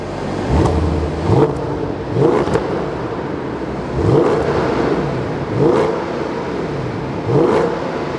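A Mercedes S-Class engine revs repeatedly in loud bursts up to about 3800 rpm, rising and falling about every one to two seconds, close by inside a garage with no voices.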